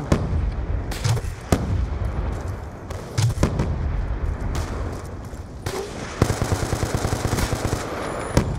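Gunfire sprays across the map in a Call of Duty Black Ops 2 multiplayer match: loud bursts of automatic fire and heavy bangs, ending in a fast rattling volley, with no talking.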